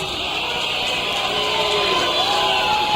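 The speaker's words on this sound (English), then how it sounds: "Getting a boo from the crowd." A wrestling arena crowd sends up a sustained, even roar of booing and shouting from many voices, steady and broad with no single voice standing out.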